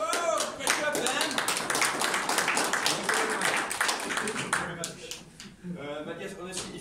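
At a software developer meetup, a small group claps briefly and unevenly, with excited voices talking over and after the clapping.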